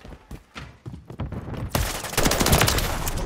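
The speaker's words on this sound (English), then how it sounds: "I'm taking effective fire." Rapid video game gunfire in a domination match: scattered single shots at first, then a dense, loud burst of automatic fire building over the last second and a half, with no talk.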